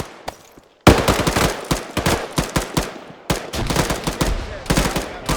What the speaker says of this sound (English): They're shooting at us from the east as well. I'm hearing bullets ping too.